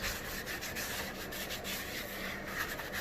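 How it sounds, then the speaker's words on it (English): A cloth wipes excess factory oil off a part from a Honda K20 clutch assembly, making a steady, close rubbing swish for a few seconds with no talk. "Wipe off the excessive grease that it comes with,"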